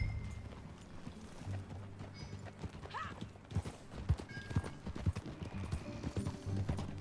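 Horse hooves gallop in the Red Dead Redemption 2 video game, a steady rapid clip-clop of several strides close by over low rumbling ambience, with no talking.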